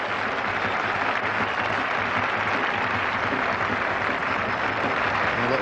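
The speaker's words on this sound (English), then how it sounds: "that's brought the biggest round of applause of the morning" A cricket crowd at an England versus West Indies Test match applauds a shot through the offside, steady sustained clapping from many spectators throughout.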